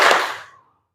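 A single sharp burst of classroom clapping during a group concentration clap routine, loud at onset and decaying over about half a second, with no talk.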